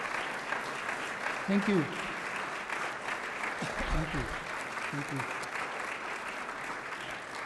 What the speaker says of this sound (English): the applause makes it clear that we've stirred up a bit of, what shall I say, discussion here